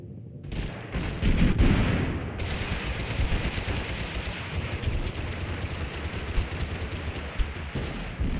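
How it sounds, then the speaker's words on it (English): Pistol shots in the video game Totally Accurate Battlegrounds (TABG): a dense, continuous barrage of sharp gunfire bursts over about eight seconds, loud and close, with heavy low thumps at the start. "I shot them 8 times."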